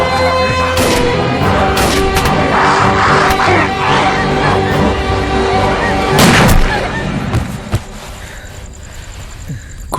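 Gunfire in the 2016 Tamil movie Miruthan, with sharp shots and booms over a dense, loud action soundtrack, one strong blast around the middle before the scene quiets into a softer ambient tail.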